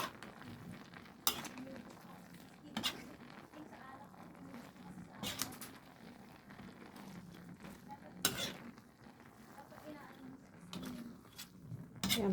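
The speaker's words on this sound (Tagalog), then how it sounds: "Haluin ko na lang po siya hanggang sa maluto." A utensil stirs rice noodles (bihon) in a pan, giving intermittent metallic scrapes and clinks against the pan over a quiet background, close up and without talking.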